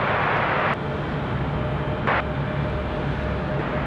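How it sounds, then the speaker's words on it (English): An Airbus A321 jet at Raleigh-Durham International Airport roars steadily with a broad, loud engine rumble, as heard from a plane-spotting position. "Beautiful shot of the A321 from Charlotte."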